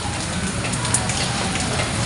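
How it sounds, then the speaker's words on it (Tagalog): Rain falls steadily outdoors in a constant, close hiss of drops hitting surfaces, even and unbroken with no talking. "Buti humina na, pero may umuulan pa rin."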